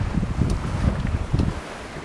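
Wind rushing past a sailboat on a night sail, a steady low roar of gusts buffeting the microphone, close and fairly loud, with no voices.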